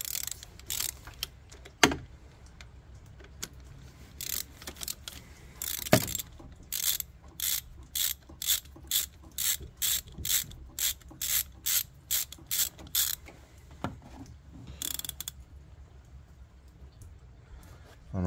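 A ratchet wrench works a thermostat bolt on a 2008 Chrysler 300C with a 5.7 engine, giving quick bursts of clicking in a steady rhythm, close and fairly quiet, with a few short pauses and clanks between strokes.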